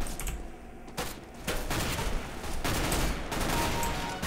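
Shotgun blasts in CS:GO arrive as several loud, close shots spaced about half a second apart, over constant game noise and clatter.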